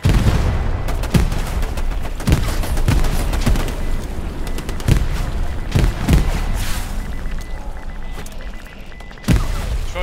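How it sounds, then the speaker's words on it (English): Grenade blasts and rifle fire crackle through a night battle at Kursk in Hell Let Loose, with repeated sharp reports and heavier booms spread across the scene at close to mid range, fairly loud throughout. "Throwing nades at us."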